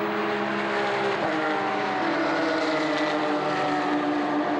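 Race cars roar past at Spa Francorchamps as Hunter Abbott tries to overtake an NGT Porsche, engines blaring continuously and loudly with a broad, steady wash of motor noise and no voices.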